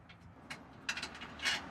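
A wrench ratchets a bolt out of the bed step on a 2024+ fourth-generation Toyota Tacoma, giving a few short, faint clicking bursts at an uneven rhythm, close by.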